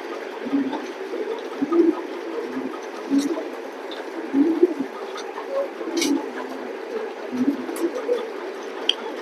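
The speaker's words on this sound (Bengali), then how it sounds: "কবুতর ছেড়ে দেখাই আমি।" Racing pigeons coo in soft, repeated throaty bursts at close range, steady and rhythmic throughout, over faint background noise.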